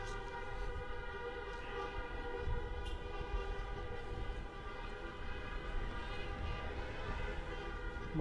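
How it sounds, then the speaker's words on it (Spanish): Car horns blare in a steady, overlapping drone from a merchants' honking protest caravan on the streets of San Salvador de Jujuy, with constant street rumble underneath. "se escuchan los bocinazos"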